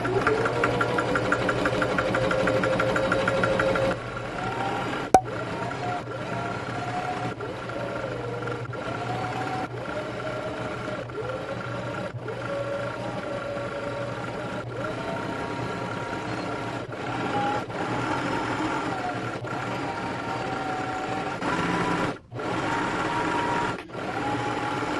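A sewing machine runs at a steady mechanical hum, stitching in repeated short bursts with brief pauses and a single sharp click near the start.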